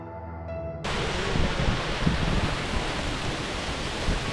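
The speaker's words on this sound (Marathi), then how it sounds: "पुरा धबधबा आहे, भयानक असा फ्लो आहे" Roaring heavy flow of the Kalu waterfall in Maharashtra, a dense broadband rush that starts suddenly after a brief quieter moment and then stays loud and steady.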